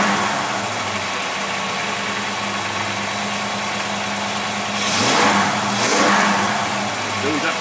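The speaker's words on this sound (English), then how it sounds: "It'll keep getting richer and richer and richer until it stalls out the engine." An idling car engine runs as its fuel mixture grows richer, giving a steady mechanical drone with two brief louder revs near the end.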